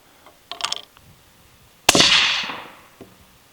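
A single loud, close 6.5 Grendel Howa Mini rifle shot firing 90-grain Hornady CX ammunition cracks sharply and rings out in a decaying tail, preceded by a few faint clicks and followed by a soft knock.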